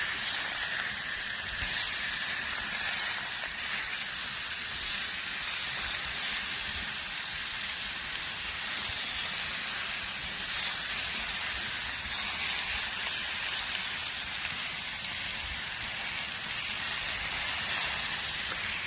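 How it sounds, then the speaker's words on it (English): Meat sizzling on a hot griddle for street tacos, a steady broad hiss that holds evenly throughout with no talk. "got your meat on there cooking real nice"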